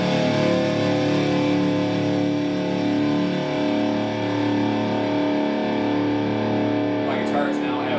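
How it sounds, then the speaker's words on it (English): Heavy distorted guitar through a rich, swelling delay on a crossfade pedalboard with a Koch Multitone amp and Eventide Time Factor, a dense sustained wash of tone that holds steady throughout and slowly thins toward the end. "The heavy delay would sound like this."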